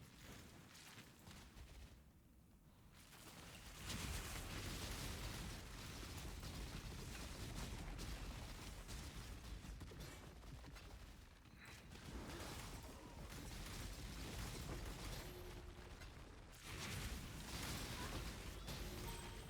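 Molten shell explosion in Path of Exile, a dense crackling blast of fiery game effects layered with clattering combat noise, loud and sustained for many seconds with brief dips.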